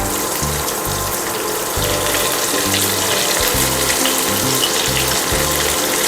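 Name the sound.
chopped onions sizzling in hot oil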